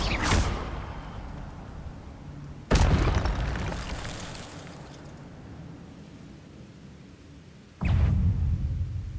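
The Incendio fire spell is cast in the Hogwarts Legacy video game: three sharp, loud fiery bursts spaced several seconds apart, each trailing off into a rumbling decay.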